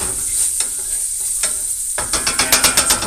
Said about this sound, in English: Give this a quick, like, 30-second stir.